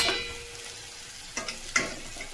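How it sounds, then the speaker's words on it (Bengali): Hot water hits a pan of frying taro with ginger, cumin and tomato paste, giving a sharp sizzling hiss that quickly fades into a low simmer, broken by a couple of light clicks and taps. "ঠিক আছে বন্ধুরা, আমি এবারে এই গরম জলটাই এতে দিয়ে দেবো।"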